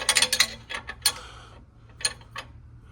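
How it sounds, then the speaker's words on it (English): A wrench clicks in a few short ratcheting bursts on a shock absorber bolt of a Buick Grand National, close and fairly faint, with no talking. "first thing I want to do is remove this shock"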